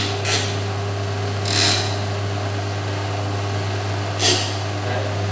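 A mechanical polishing machine for metal samples, unused for a long time, runs with a little water on its surface, giving a steady low motor hum with faint rubbing and a few brief splashy swishes.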